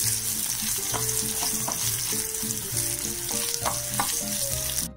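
Crushed pepper and green chillies fry on a low flame for a soup, giving a steady close sizzle with occasional stirring scrapes under tonal background music.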